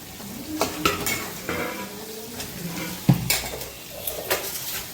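Onion and tomato being sautéed and stirred in a pan for a fish curry: a soft, steady sizzle under scraping spoon strokes and light clinks of metal on the pan, close by, with no talking.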